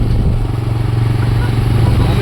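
A motorcycle carrying riders along a road, its engine giving a steady loud drone with constant wind rumble throughout.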